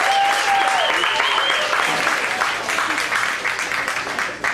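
A big round of applause rises from the audience at a mentalist's Q&A show, dense and steady throughout, with bits of voices mixed in and the clapping thinning slightly toward the end.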